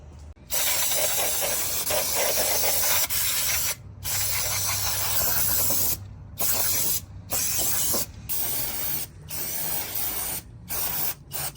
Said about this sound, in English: this is the exact reason why you brake clean your new clutch kits and everything else